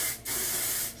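Pantene Waterless dry conditioner sprayed from a can, two steady hissing bursts close by with a brief gap between them, loud and without talk.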